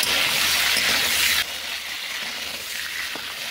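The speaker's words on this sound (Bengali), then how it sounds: "এই যে আমার সব মাছগুলো দেওয়া হয়ে গেছে, এখন একটু নাড়িয়ে নেব।" Fish sizzle loudly in hot oil in a pan while being stirred, a steady bright frying hiss that drops to a quieter simmer partway through, with a faint clink near the end.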